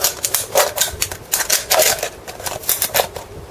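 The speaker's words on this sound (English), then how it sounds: "Scissors in, cut the bottom off." Scissors snip through the bottom of a piece during a motorbike sump thread repair, giving a quick run of crisp, close cutting clicks with no talking.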